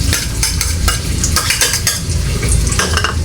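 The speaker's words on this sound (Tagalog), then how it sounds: "So lulutuin lang natin yung sibuyas saka yung garlic guys." Onion and garlic frying in a pan in a home kitchen, a steady loud sizzle with repeated scraping and clinking of a utensil stirring against the pan.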